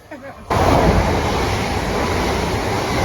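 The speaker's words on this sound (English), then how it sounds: "Oh, there's a train coming this way now." A train passing close by outdoors, arriving abruptly after a brief quiet moment and holding as a loud, steady, broad rumble and roar through to the end.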